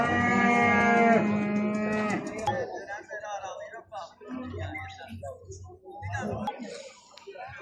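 Calves and cattle at a sheep, goat and cattle market in Mashtaga moo loudly with one long drawn-out low, while traders talk nearby amid crowd noise.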